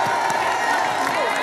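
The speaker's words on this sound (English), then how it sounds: "One more round of applause" Crowd applause and cheering at the 2024 Ally ACC Women's Basketball Tournament, a steady, loud, dense wash of clapping with scattered whoops filling the arena.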